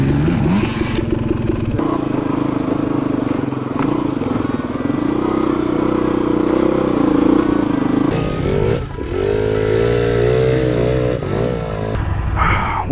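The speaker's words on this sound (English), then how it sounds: "the joy of riding the Beta 300 RR" A Beta 300 RR dirt bike roars at close range throughout during a dual-sport ride, its engine droning steadily with shifts in pitch as it accelerates and revs.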